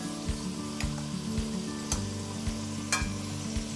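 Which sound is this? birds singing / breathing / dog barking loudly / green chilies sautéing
green chilies sautéing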